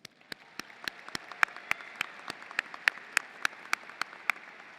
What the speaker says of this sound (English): I think that's worthy of applause.